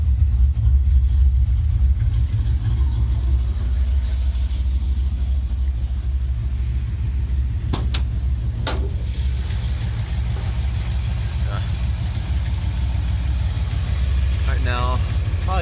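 A 1980 Plymouth Volare sedan idles with its hood open, a steady low rumble running throughout. Someone speaks over it, and a few brief higher tones cut in near the end.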